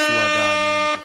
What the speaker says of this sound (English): Man, one air horn